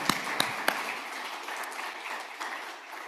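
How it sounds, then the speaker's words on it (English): An audience at a closing ceremony gives a steady round of applause, a dense wash of many clapping hands. A few sharper claps stand out near the start, and the sound stays moderate throughout. "James, round of applause for James."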